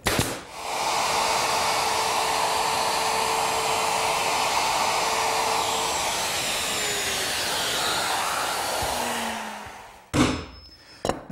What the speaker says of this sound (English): using my router, which has a bearing at the top of the bit. That will ride around the inside of the cutout, and the bit will mortise it.